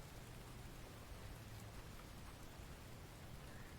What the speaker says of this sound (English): Stop raining for a minute.